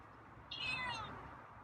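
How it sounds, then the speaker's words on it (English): A feral cat named Scruffy gives a single drawn-out, wavering meow close by, rising then trailing off, with quiet room noise around it. "Hey, it's a meow. It's another meow. It's the third meow."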